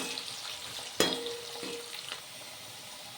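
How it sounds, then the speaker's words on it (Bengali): Potatoes fry in tempered oil for a Bengali rohu fish curry, a soft, close sizzle with a sharp clatter of stirring near the start and faint scraping after. "তাড়াতাড়ি করার জন্যই কিন্তু একবারে ফোড়ন দিয়ে আলুগুলো দিয়ে দিলাম।"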